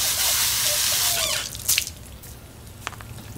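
Tap water rushing loudly as detailing supplies are rinsed under it, a steady spray for over a second, then the flow stops, leaving scattered drips and small squeaky handling noises.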